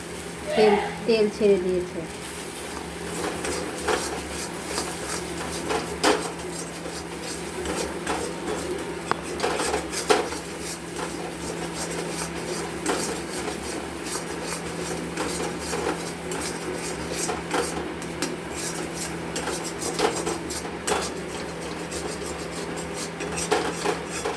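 Shrimp and paneer masala with potato being stirred and fried in a pan over lowered heat, metal utensil scraping and clinking steadily throughout under continuous speech from someone talking.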